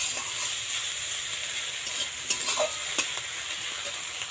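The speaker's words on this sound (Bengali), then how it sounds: "এভাবে কিন্তু আরও 3-4 মিনিট ভালোভাবে নাড়াচাড়া করে নিন।" Onion and garlic stir-fry in oil, a close, steady sizzle broken by a few scraping stirs and light knocks of a spatula against the pan.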